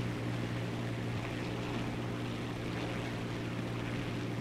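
Propeller engine of an I-15 M-22 biplane in War Thunder, a loud constant droning hum with a strong low tone, holding steady throughout as the plane gains speed, no talking over it.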